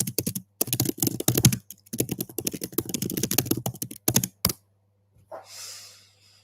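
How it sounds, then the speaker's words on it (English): Loud, rapid typing on a computer keyboard during a coding session: dense bursts of sharp key clicks with short pauses for about four and a half seconds, then a brief softer rustle. "Sorry, I'm a loud typer."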